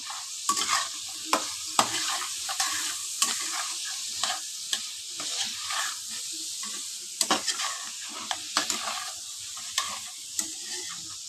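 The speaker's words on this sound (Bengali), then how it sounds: "এটাকে ভালো করে ভাজবো হাই স্পিড দিয়ে একটু ভাজবো" Ridge gourd, potato and tomato fry on high heat in a pan, a steady close sizzle punctuated by repeated sharp scrapes and taps of a spatula stirring the vegetables, with no talk.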